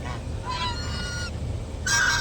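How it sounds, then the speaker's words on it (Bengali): Several geese honk in bursts at a rice mill, a harsh call near the start and a louder, brighter honk at the end, over steady low background rumble. "রাজহাঁসগুলো কিরকম করছে দেখো, অনেকগুলো রাজহাঁস আছে,"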